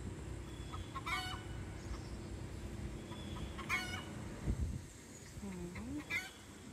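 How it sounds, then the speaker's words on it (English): Backyard chickens cluck and call outdoors at a distance, a few short scattered bursts over a faint steady background hum. "you hear my chickens out there"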